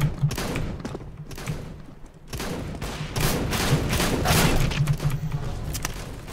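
Rapid bursts of shotgun and gunfire from Counter-Strike: Global Offensive, several loud blasts with mechanical clatter, thickening into a dense fusillade in the second half.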